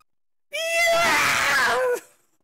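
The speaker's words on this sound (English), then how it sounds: "Her scream nearly blew out Junpei's eardrums" A woman lets out one loud, piercing scream of fright that lasts about a second and a half, then breaks off into silence.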